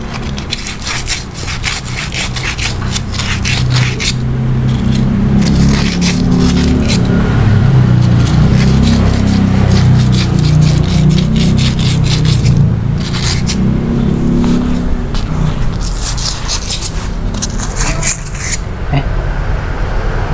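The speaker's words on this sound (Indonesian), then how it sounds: "Pakai amplas." Continuous harsh scraping and rasping, loud and close, with rapid back-and-forth strokes of sandpaper rubbed hard against rusty, greasy metal brake parts, pausing briefly now and then.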